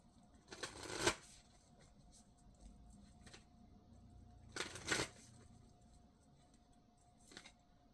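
A deck of oracle cards being shuffled in two clear riffling bursts, the first stronger, with a faint third rustle near the end, set against a quiet room with no talking.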